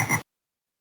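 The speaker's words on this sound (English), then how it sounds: "F is for frog." A VTech animal alphabet train toy plays a single short, loud frog croak through its small speaker, followed by silence.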